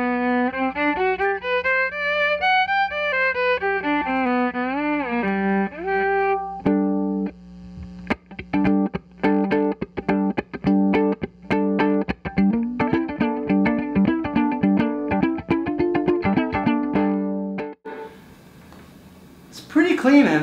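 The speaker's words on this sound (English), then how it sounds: "Here's the sound of the violin through the amp." Violin played through a 1964 bass amp, first bowed in smooth sustained melodic lines, then plucked or strummed in rapid choppy bursts with a slightly distorted, effected tone, loud and close, ending in a brief noisy tail.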